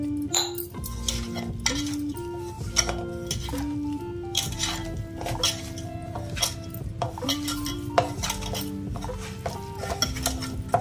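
Wheat flour pakoda batter mixed in a bowl by hand, with steady rhythmic stirring and frequent clinks of a utensil against the vessel. Faint kitchen sounds run underneath and no one speaks.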